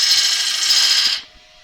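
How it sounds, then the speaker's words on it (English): Bowl gouge cutting a spinning wooden bowl on a lathe, a loud steady hiss of shavings peeling off for about a second before the cut stops abruptly and leaves only a faint hum. "Good cut with some nice shavings coming off here."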